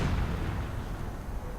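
A Stu 42 assault gun fires in a video game battle, giving a loud, heavy cannon blast that rumbles on through the whole moment without easing off.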